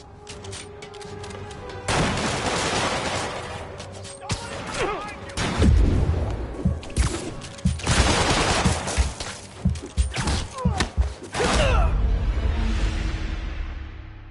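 Sniper and automatic gunfire in a Spider-Man video game: repeated sharp shots and bursts of fire, some in rapid clusters, loud and close, with dense crackling volleys between short pauses.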